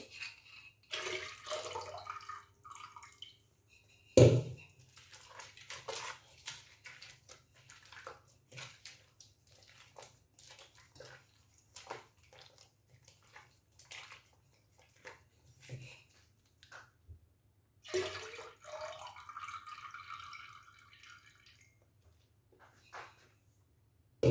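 Milk squeezed by hand out of cream and poured into a vessel, giving intermittent wet splashing and pouring sounds with a few louder bursts and handling knocks, close up over a faint low hum.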